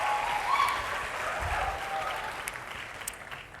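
Steady audience applause rises at a healthcare business panel discussion as a participant makes his way down, a broad wash of clapping holding fairly even throughout at moderate distance.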